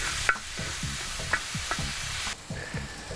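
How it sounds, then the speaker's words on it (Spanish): Vegetables sauté on a disc pan over an outdoor campfire-style setup, giving a steady loud sizzle broken by repeated scraping stirs of a utensil against the metal, with no talking. "Y cocinamos estas vegetales hasta que logramos ver que pierden ese color fuerte"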